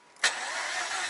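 A warm Mazda RX-8 rotary engine cranks briefly and fires on the first attempt, then settles into a steady, close idle with no talking.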